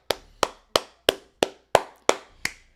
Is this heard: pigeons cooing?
no